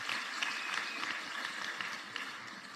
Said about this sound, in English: I think we can give them a big hand of applause.